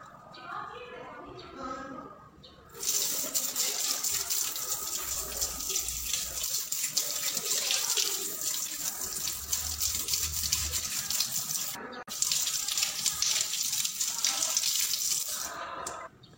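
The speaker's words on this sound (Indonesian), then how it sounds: "Cuci tangan 6 langkah." A tap runs steadily into a sink during six-step handwashing before postnatal care, a close, continuous gushing splash that starts after brief talk, stops briefly, then resumes, with a voice occasionally underneath.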